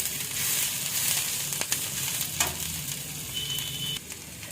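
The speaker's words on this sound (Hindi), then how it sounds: "अब इसे डालकर भी मैं अच्छे से फ्राई कर लेती हूँ" Chopped cabbage and beetroot fry in a pan with a steady close sizzle, punctuated by a few stirring scrapes, with no talking.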